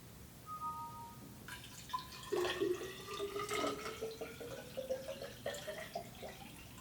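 Liquid coolant pours into a custom PC water-cooling loop, a steady trickling and gurgling with rising tonal filling notes, close and continuous for several seconds.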